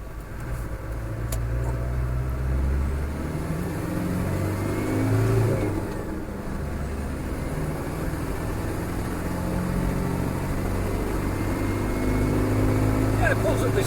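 A Land Rover Defender 110 climbs a hill, its engine droning steadily under load with rising and easing revs, heard from inside the vehicle amid road noise with a voice talking over it.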